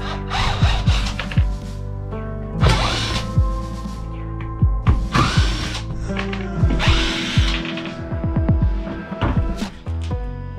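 A power tool such as a drill unscrews screws from an epoxy casting mold, running in repeated bursts of whirring with short pauses and clicks between them, close and fairly loud.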